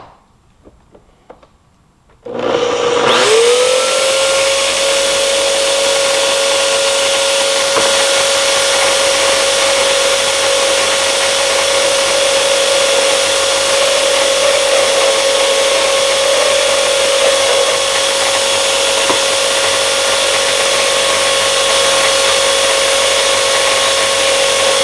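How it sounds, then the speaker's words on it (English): A power drill spins up after a brief quiet start and grinds steadily on a piece of wood at a workbench, its loud, even motor whine held nearly unchanged for more than twenty seconds. "I'll start the drill and we'll grind a little bit on this piece of wood right here"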